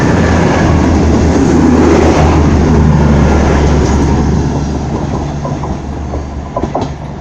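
A loud diesel train rumbles past at close range through Darlington station, heavy engine drone with rhythmic wheel clatter, fading slightly toward the end.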